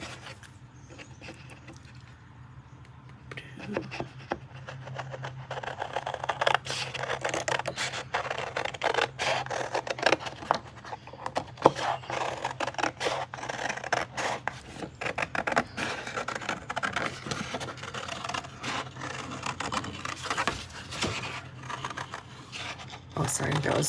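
Scissors cut fabric pieces for a scissor case, giving repeated close, crisp snips and rasping scrapes against a table, with a low hum underneath and a person talking intermittently over the cutting.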